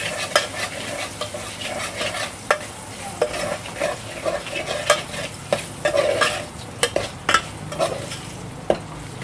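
Tempering spices sizzle steadily in a pan while a spoon stirs and scrapes repeatedly against the metal, giving irregular clinks and scrapes over continuous frying noise, close and clear.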